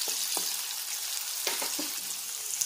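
Sliced onions sizzle steadily in a hot pan for dal curry, a constant close frying hiss broken by a few light clicks and scrapes of stirring.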